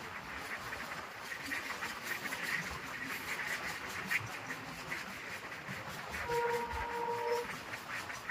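The Tapovan Express, which runs between Hazur Sahib Nanded and Mumbai CSMT, passes near Nanded with a steady, loud rolling rumble of wheels and carriages. A brief two-tone horn sounds near the end.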